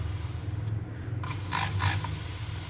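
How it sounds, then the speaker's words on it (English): A spray atomiser is pressed several times and releases a few short airy hissing bursts, soft and close over faint background hum. "To make the spray last longer, you just have to press it multiple times."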